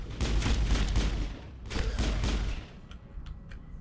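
Rapid bursts of gunfire in the video game Mass Effect, two loud clusters of overlapping shots echoing through a maze-like area, then a few sparser, fainter single shots trailing off.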